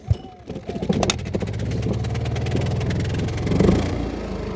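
A small engine set to eco mode with the choke pulled fully out starts after a single pull and settles into a loud, close, steady idle. It sounds rough and uneven under brief talk.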